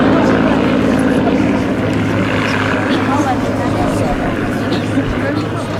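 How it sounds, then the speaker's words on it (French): A light aircraft with a 190 hp Lycoming engine drones steadily overhead during an air show at Sarlat-Domme, a constant loud hum with a person talking over it. "pour qu'on puisse entendre le bruit du Lycoming 190 chevaux."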